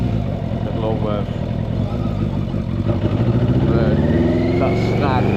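Yamaha Fazer 600 motorcycle engine snagging at low revs, a close, uneven low rumble with stuttering pulses and clatter that build toward a rising rev, heard beneath someone talking.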